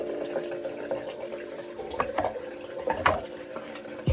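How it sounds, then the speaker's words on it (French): A bathroom tap runs steadily while someone brushes their teeth, with faint scrubbing and splashing over the continuous close flow of water into a sink. "Je me brosse d'abord les dents."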